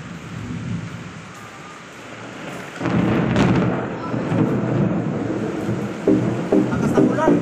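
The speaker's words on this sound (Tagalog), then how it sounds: "Lakas ng ulan." Heavy rain pours down with rumbling thunder, starting quieter then surging into a loud, continuous downpour with deep rolling booms.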